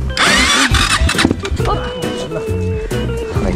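A motor vehicle engine cranks and catches on a mountain trail, its loud, rough running continuing with irregular revving bursts and clattering throughout.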